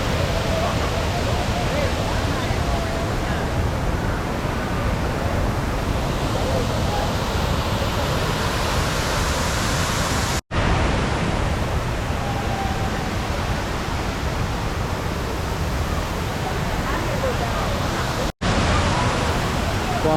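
Thiruparappu waterfall on the Kanyakumari route pours in a steady, dense roar of rushing water that fills the whole scene without letup, broken only by two brief cuts.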